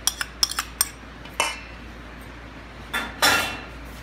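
Tuna and mayonnaise being mixed in a dish, with sharp clinks of a metal spoon against the bowl, a few quick taps, then scraping strokes, close and fairly quiet.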